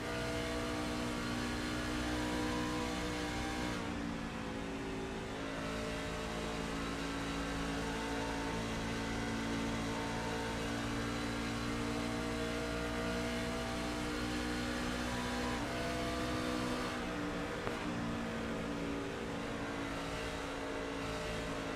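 Race truck engines drone in iRacing's Tuesday Night Truck Series at Charlotte at reduced throttle, a steady, unbroken roar with a dense, buzzy tone that barely rises or falls, with no voices over it.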